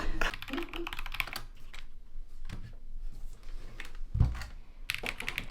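Someone tests a keyboard in an Apple Store, with quick bursts of light key clicks that come and go between pauses. Soft voices and store murmur sit under the typing, with a louder thump near the end.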